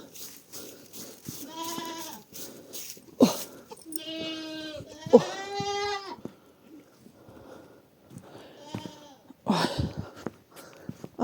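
Goats bleat several times in loud, wavering calls, some long and drawn out, spaced by quiet pauses and light background shuffling, with no one speaking.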